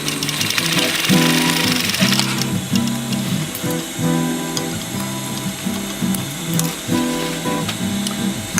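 A sewing machine stitches webbing onto a roll-up bag, its needle running in rapid repeated bursts with short pauses between runs, loud and close with a mechanical clatter throughout.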